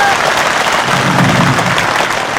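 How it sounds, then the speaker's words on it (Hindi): A large crowd at an all-India Chaudhary community gathering claps loudly for the guru. The applause is dense, continuous and close throughout, with a faint murmur of voices beneath. "दोनों ऊपर हाथ करके तालियां बजा दो गुरुदेव के लिए।"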